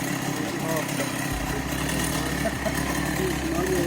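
A chainsaw cutting wood for flood defenses drones steadily throughout, a low continuous buzz with a shift in pitch partway through, with faint voices underneath.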